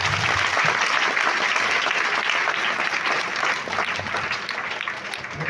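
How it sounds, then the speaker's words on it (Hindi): Loud, dense applause from a large audience fills the whole stretch steadily, easing slightly near the end, with no voices standing out. "तो एक बार अपने लिए जोरदार तालियां बजाएं।"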